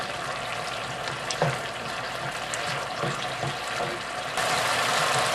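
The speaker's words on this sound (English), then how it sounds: "You're gonna let them cook, and the sauce eventually will bring up to a boil." Lobster or crab simmers in a hot chili sauce, giving a soft, steady sizzle and bubbling with occasional clinks. The sound is low and continuous with no voices.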